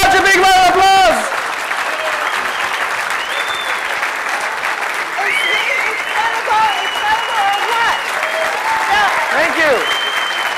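A conference audience breaks into sustained applause, a broad steady roar of many hands clapping that continues for several seconds, with a voice briefly heard at the start and faint speech sounding over the clapping.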